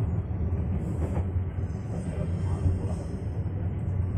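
An Indonesian passenger train runs steadily with a dense, continuous rumble of wheels on rails and a faint metallic hiss, heard from inside the carriage with no pauses.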